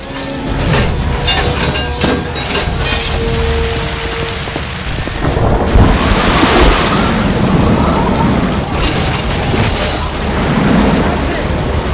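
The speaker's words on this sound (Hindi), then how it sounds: "पानी का बहाव बहुत तेज है" Flood water of the Sirsa river rushing past in a loud, continuous roar, with deep booming rumbles and bursts of hiss throughout, dense and close.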